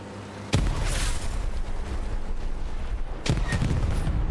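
Precision-strike artillery in a video game lands in two heavy booming blasts a few seconds apart, over a dense continuous rumble of battlefield gunfire and explosions.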